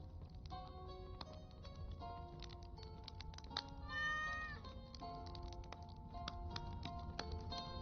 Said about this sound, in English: We got to pet the cat.